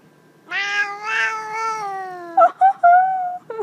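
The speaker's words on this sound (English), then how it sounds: "Oh, kitty, I love you so much, beautiful cat." A cat gives a long, drawn-out meow close up, followed by a few shorter chirping meows, loud and clear against a quiet room.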